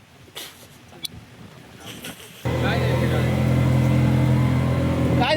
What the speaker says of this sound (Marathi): गाडी चढत नाही वरती भावाची.